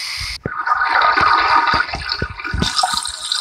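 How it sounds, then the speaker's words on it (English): Shower water running in the Roblox MeepCity game, a gushing splashy stream that starts abruptly after a brief pause, continues steadily, then surges brighter near the end. "So, let's take a shower."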